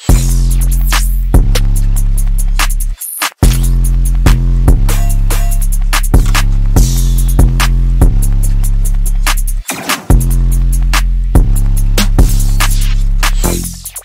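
Electronic drum pattern built in music production software, a loud repeating beat of booming kicks and sharp hits with short dropouts, close and dense with no talk.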